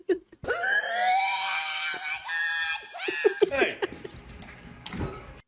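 A high-pitched vocal scream rises and holds for a couple of seconds, then breaks into choppy squeals and laugh-like bursts.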